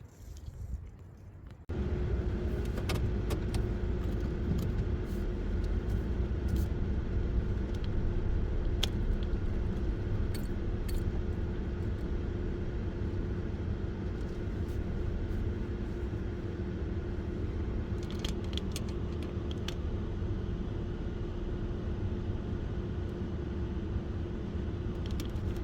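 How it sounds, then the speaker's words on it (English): A car pulls off and drives away on a wildlife drive, its engine settling into a steady, loud low rumble that holds for over twenty seconds with faint clicks and rattles on top. "let's drive away."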